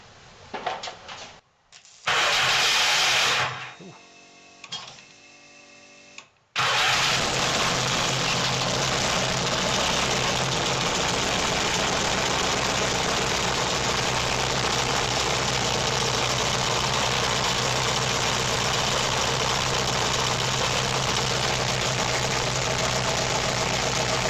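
A car engine with map sensor, air-fuel and manifold temperature readouts cranks in short bursts, catches and fires up, then settles into a loud, steady idle that runs on alone.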